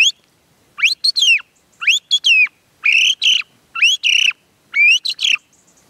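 A person whistles an imitation of a song thrush in five short bursts of quick, bright, sliding notes, each separated by a brief pause, clear and close.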